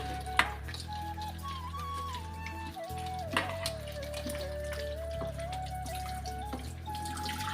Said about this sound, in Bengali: এখানে আমরা এখন সবজিটাকে ভালো মতো ধুয়ে নেবো